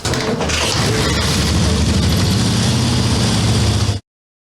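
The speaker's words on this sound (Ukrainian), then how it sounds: "У Віктора Нехоце мотоцикл заводиться з першого разу." An old motorcycle, freshly repaired, starts first try and runs with a loud, close, rumbling low engine note that holds steady for about four seconds before cutting off abruptly.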